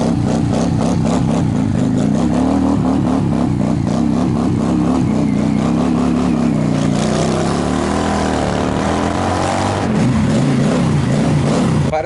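A cold motorcycle engine sputters and revs unevenly for several seconds, pulsing roughly before surging and dropping again, close up with no talk.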